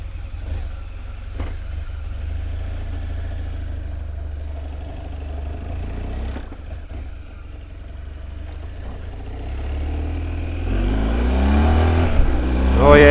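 BMW R1200GS motorcycle engine pulling hard on a test ride after a repair, a steady low drone that rises and grows louder toward the end as it accelerates, with no talk over it.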